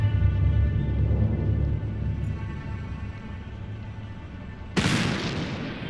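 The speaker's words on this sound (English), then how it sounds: "Sounded like a gunshot." A single sharp gunshot-like bang cuts through a steady low rumbling background crowd scene, loud and abrupt near the end, followed by a brief decaying tail.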